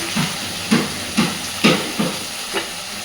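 Paneer pieces frying in hot oil, a soft hissing bubble broken by several regular bursts of louder sputtering, close and without talk.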